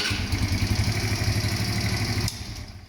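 A Junak 905 motorcycle engine with an enlarged-capacity injection conversion, running from cold with a close, loud, rapid steady thumping beat that drops away abruptly near the end.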